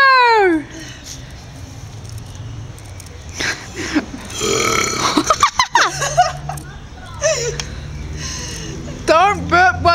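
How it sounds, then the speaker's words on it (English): Loud, drawn-out belches erupt at a belching competition, several in a row with rising and falling pitch, amid a noisy crowd of voices, laughter and shouting around them. "Don't burp while there's still stuff in your mouth."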